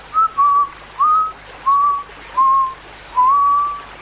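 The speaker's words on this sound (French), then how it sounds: "Et il siffla encore une mesure de l'hymne national." A single person whistles a bar of a national anthem: six clear, steady tones in sequence, close and loud, over a quiet background hum.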